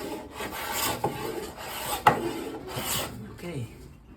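A hand plane shaves a clamped poplar board in repeated rasping strokes, close and clear, with a sharp knock midway and no talk.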